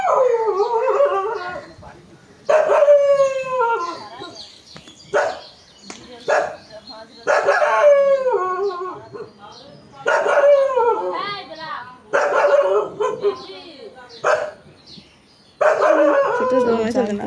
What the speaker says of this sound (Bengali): ওদের বাড়ির কুকুরটা ঘেউ ঘেউ করছে